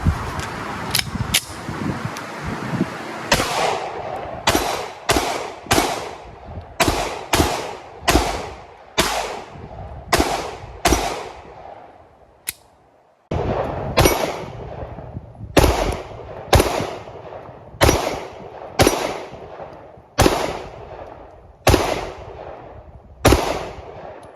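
A Shadow Systems CR920 pistol fired in a long string of sharp, loud shots, a few spaced early then a steady rhythm of roughly twenty reports with a short pause midway, no talk.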